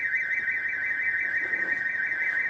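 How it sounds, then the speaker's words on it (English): A building alarm rings on a town street, a steady piercing tone sounding continuously and fairly loud, as if close by, with no talking over it. "someone forgot to turn their alarm off when they walk in the door or something, and alarms go off"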